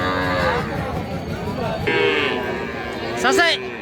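Calves moo repeatedly amid a busy crowd, voices chattering all around at a noisy outdoor livestock market.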